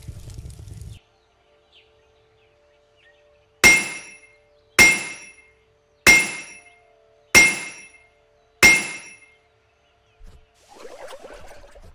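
A blacksmith's hammer in the video game My Little Blacksmith Shop rings against metal five times in an even, evenly spaced rhythm, each strike a loud, bright clang that decays quickly, followed by fainter game sounds.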